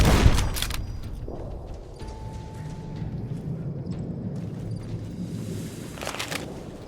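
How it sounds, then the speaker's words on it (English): A single explosion goes off in Fallout: New Vegas near a lakeside campground with a ranger station, a strong low burst at the start that settles into a rumbling, crackling tail over steady game ambience. "Mind the explosion!"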